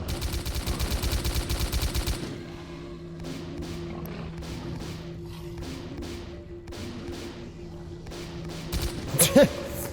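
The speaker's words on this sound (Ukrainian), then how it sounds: "Я чую кулемет." Machine gun fire in S.T.A.L.K.E.R., a rapid, loud burst of automatic shots opening up close, followed by a quieter stretch of distant repeated thumps and a final few sharp impacts.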